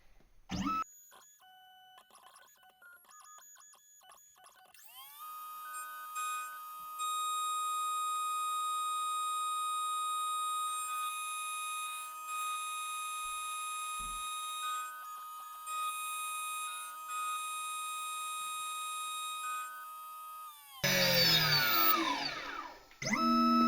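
A CGDI Godzilla key cutting machine cuts a HU162T Porsche key blade: a steady, loud, tonal motor whine holds for about fifteen seconds after a few short setup clicks, then gives way to a harsher burst of cutting noise at the end.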